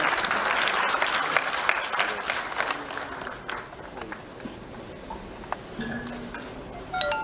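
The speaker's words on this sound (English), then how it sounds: "a huge round of applause for all our awardees" Applause from an awards ceremony audience, strong at first with sharp individual claps, then thinning into scattered claps and light clinks in a large room, with a brief voice near the end.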